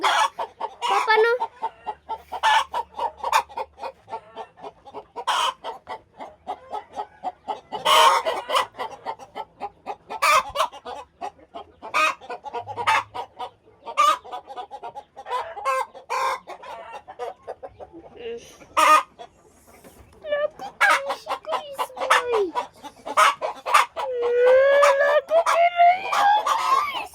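Chickens cluck repeatedly in short bursts close by, with people talking over and between them and a louder squawk near the end.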